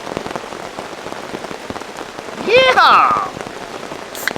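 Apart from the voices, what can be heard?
heavy rain falling on a tarp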